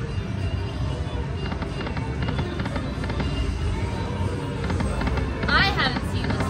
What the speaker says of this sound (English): Playing it for the fireworks.